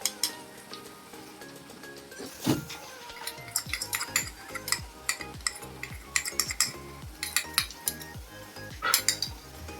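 Yogurt-based spice mix is added to a pan over gram flour and stirred, with a spoon scraping and clinking against the pan in an irregular rhythm, close and fairly quiet, a soft sizzle underneath and no talking.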